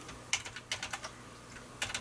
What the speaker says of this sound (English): Possible the keyboard doesn't want to do numbers.